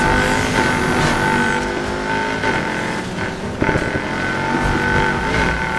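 Range Rover Sport SVR engine roaring steadily in the racing video game Need For Speed Heat, loud and continuous with revving shifts and a brief bump of impact noise midway.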